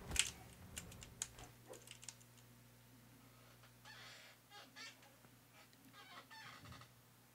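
Quiet clicking keystrokes on a broken computer keyboard, in irregular clusters of taps with short pauses between them.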